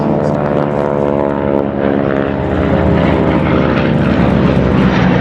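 Piston-engine warbirds, a Vought Corsair or Mitsubishi Zero, fly a display at the Duxford air show, a loud steady propeller drone with rich engine harmonics that holds strong throughout.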